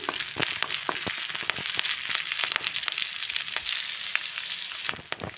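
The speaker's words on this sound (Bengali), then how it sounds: "এতে কালো জিরা ফোড়ন দিলাম তাতে কাঁচা লঙ্কা দিলাম একটু ভেজে নিয়ে" Nigella seeds and green chilies spit and sizzle in hot oil for a prawn curry, a dense, steady crackle close by with sharp pops scattered throughout and no talking.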